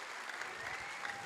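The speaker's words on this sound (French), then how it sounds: "Merci de l'applaudir encore Mathilde, s'il vous plaît." An audience applauds steadily at a tourism and culinary arts careers day in French Polynesia, a dense continuous clatter of many hands throughout with no voices standing out.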